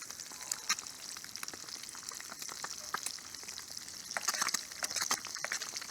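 Food sizzles in bacon grease in a camp skillet, giving a soft, steady crackle with scattered sharp pops, fairly quiet and without talk.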